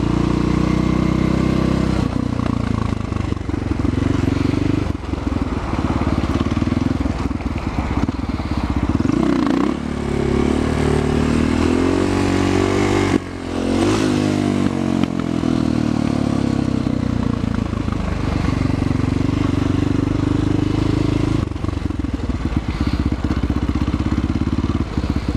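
A motorcycle engine idles and revs during slow-speed riding practice, loud and close, with the throttle rising and falling unevenly and a few clattering knocks mid-way.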